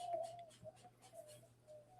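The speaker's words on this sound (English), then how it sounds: "Some bird back there making a noise." A bird calls faintly in the background with a soft, cooing tone over a low steady hum.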